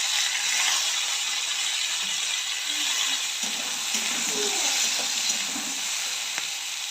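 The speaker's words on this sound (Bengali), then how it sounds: "এবার একই সঙ্গে পেঁয়াজ, টমেটো দিয়ে আরেকটু ভেজে নেব।" Onion and tomato frying in a pan with potatoes, a continuous bright close sizzle with occasional soft stirring sounds underneath, no voices.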